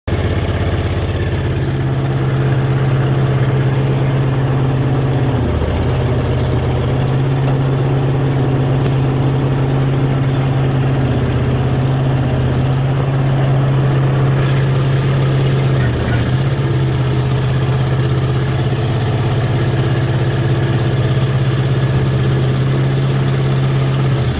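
An International Harvester 4130 skid steer engine runs at a steady, loud, low idle throughout, with a slight dip in the drone a couple of times.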